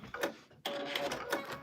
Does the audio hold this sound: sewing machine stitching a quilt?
yes